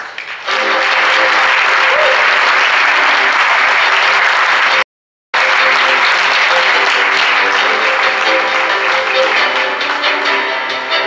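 Loud, dense audience applause in a conference hall at a Samsung SSD summit in Seoul, a steady wash of many hands clapping, cut by a brief gap of silence midway before resuming.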